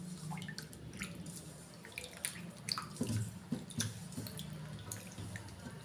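Water pouring into a pot while rasam is being made, a soft trickling and splashing stream with scattered drips, quiet and close.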